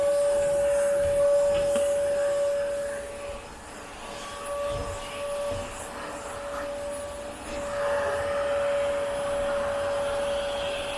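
A vacuum cleaner works over very hairy living room furniture, its steady tonal motor whine running throughout, dipping and shifting in pitch as the nozzle presses and moves across the upholstery, close by with no talking.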